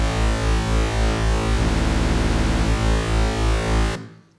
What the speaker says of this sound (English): Has that kind of phasey fuzzy feel because it's no longer harmonically in sync